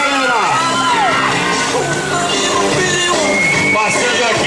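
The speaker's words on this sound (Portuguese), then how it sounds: "a salva de palmas aí, galera" Crowd at a Brazilian rafting championship event in Juquitiba cheering and shouting, with whoops and yells layered over a dense, continuous roar that stays loud throughout.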